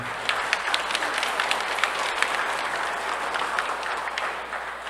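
A church congregation at a Sunday Mass claps for nine people completing a Bible study course, producing a sustained, even patter of many hands with a few sharper claps standing out, moderately distant and continuing throughout.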